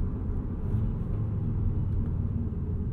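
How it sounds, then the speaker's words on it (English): A 2022 Audi RS3 engine in dynamic drive mode gives a steady, low, throaty rumble from inside the cabin, a constant drone with no voices over it. "You can hear the car gets quite a bit louder, and you can hear that transmission selecting gears as well."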